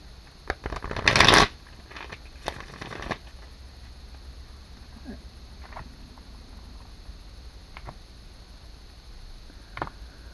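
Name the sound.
tarot cards being shuffled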